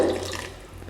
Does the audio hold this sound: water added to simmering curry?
yes